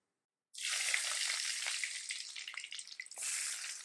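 Chopped onions hit hot coconut oil with mustard seeds in a pan, bursting into a loud, steady sizzle with crackling pops that eases slightly and then flares again, close up, no voices.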